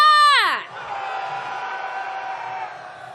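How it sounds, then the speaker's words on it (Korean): A rally march crowd heading toward Gwanghwamun shouts in unison. A falling, siren-like vocal cry opens it, then a sustained roar of many voices continues, loud and spread out. "함성 시작!"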